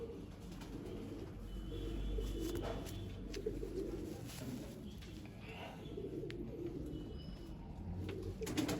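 Pigeons at a Bumb breed loft in Jammu give low, soft cooing calls that repeat over a steady murmur of background noise.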